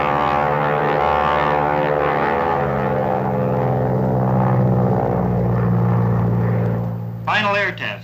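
A 1954-era propeller airplane drones loudly and steadily during aerobatics, its engine note shifting pitch as it levels out, with radio-style voices talking over it near the end.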